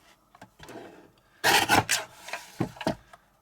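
Cardstock for a card-making kit is trimmed with a paper trimmer. Soft rubbing handling noises lead into a loud, close scraping slide of the blade, followed by a few shorter strokes.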